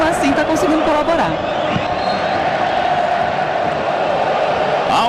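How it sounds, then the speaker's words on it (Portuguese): Grêmio supporters roar continuously across the Olímpico stadium during a football match against Flamengo, a dense, loud crowd wash with cheering swells throughout. "Aumenta o volume da torcida gremista no Olímpico"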